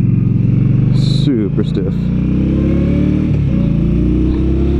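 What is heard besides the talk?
2016 Indian Scout motorcycle engine while riding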